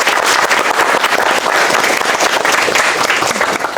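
A room audience claps and applauds loudly and continuously, a dense steady patter of many hands close to the microphone.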